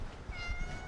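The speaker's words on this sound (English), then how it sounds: "Tiny Cat says hi, everyone" A small cat gives a brief, soft meow indoors, faint and close, with low room noise around it.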